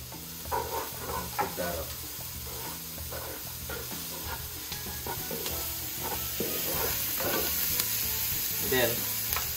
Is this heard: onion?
yes